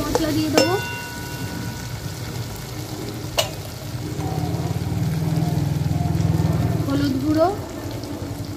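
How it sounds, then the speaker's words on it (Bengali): Onion, ginger, garlic and tomato masala sizzles and gets stirred in a pan for a sea crab curry. The frying is a steady close hiss with a few sharp utensil clinks, and someone speaks briefly over it. "আবারও একটু ভালো করে কষে নেব। পেঁয়াজ, আদা রসুন, টমেটোটা ভালো করে কষা হয়ে গেছে"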